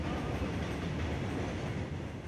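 A train rolls steadily past a railway crossing in Punjab, a dense, continuous rumble with faint wheel clatter, loud and close throughout with no pauses.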